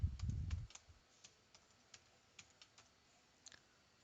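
Someone types a password on a computer keyboard. A low thump opens the passage, followed by sparse, quiet, evenly spaced keystrokes in a still room.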